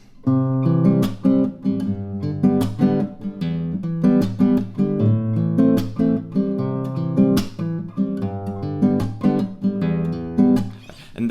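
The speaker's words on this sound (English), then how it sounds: "return down with a bit of force to create sort of a percussive sound like this" Steel-string acoustic guitar strummed with sharp percussive slaps on the strings, a steady rhythmic pattern of struck chords, close and fairly loud.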